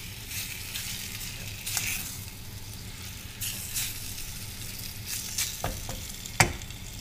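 Chicken pieces for salsa chicken sizzle steadily in a frying pan, a continuous close frying hiss broken by a few sharper clicks and scrapes, with no talking.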